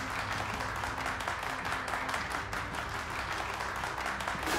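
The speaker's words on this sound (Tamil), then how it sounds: "ஒரு நல்ல கைத்தட்டல் கொடுக்கலாம்." Audience clapping at a charity-run women achievers awards ceremony as a company chairman is welcomed to the stage, a dense, continuous burst of applause from a large crowd, sustained and fairly loud throughout.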